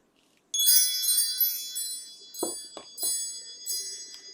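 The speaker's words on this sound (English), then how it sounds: "Let's call in spirit with some wind chime time." Wind chimes ring out abruptly after a brief quiet start, a dense shimmer of bright metallic tones that keeps sustaining and decaying, with a few soft knocks and taps underneath.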